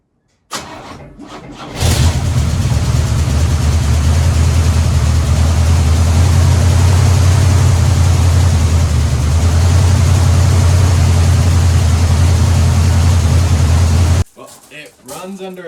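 A 1986 Chevy square body pickup truck cranks briefly, then its engine catches and runs at a steady, loud, close idle for about twelve seconds before shutting off.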